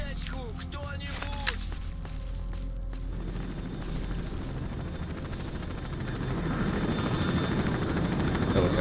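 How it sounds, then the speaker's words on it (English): Helicopter rotors thrum loudly and continuously in the video game S.T.A.L.K.E.R.: Shadow of Chernobyl, the chopping growing heavier toward the end, with brief talk near the start. "Helicopter."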